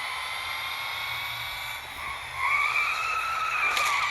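A Lotus Evija hypercar skids in a racing game on a track-day run, a steady loud tire squeal and engine whine that rises in pitch partway through and holds to the end.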